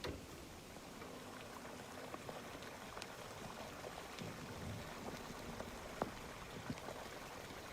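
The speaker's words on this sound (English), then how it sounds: "we sprayed water on the coals, and we got all this really incredible crackling and gurgling and all sorts of lava-type sounds" Water sprayed onto burning coals, a faint continuous hiss with dense crackling and gurgling bubbles and occasional sharper pops, quiet and steady.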